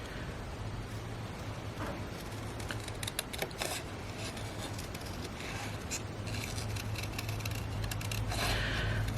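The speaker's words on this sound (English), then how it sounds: "now I'm just going to cut this out. Doesn't take long to cut this little birdhouse out." Scissors snipping through card stock while cutting out a small paper birdhouse shape, a steady run of short crisp cuts close by with faint background hiss.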